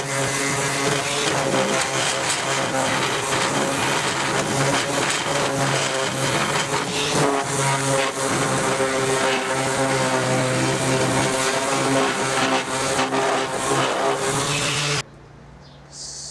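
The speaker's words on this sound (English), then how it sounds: "I'm now going to give them a sand." A power sander works over 970 mm wooden legs for a homemade wood and charcoal barbecue, its loud, steady motor whine running without a break for about fifteen seconds before cutting off abruptly.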